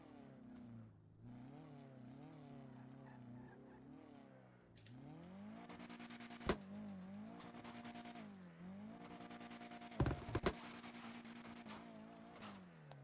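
Car engine in GTA 5 revving steadily with rising and falling pitch sweeps, a few sharp bangs or impacts around the middle and near the end, loud and continuous throughout.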